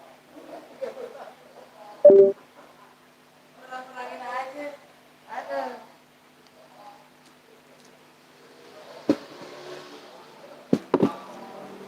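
A mobile phone sounds off in a radio studio, giving short tonal beeps and a ringtone-like burst amid scattered speech and faint background noise, moderately close and fairly quiet.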